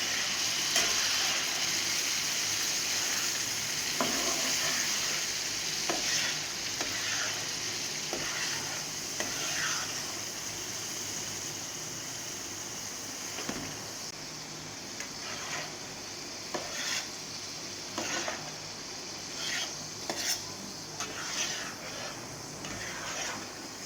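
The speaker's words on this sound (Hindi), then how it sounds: "कलेजी हमारी जो बकरे की है वो अच्छी तरह भून चुकी है।" Goat liver (kaleji) frying and being stirred in a pan, a steady close sizzle with scattered scraping and stirring clicks throughout, no talking.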